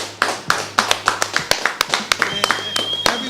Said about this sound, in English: Everyone is clapping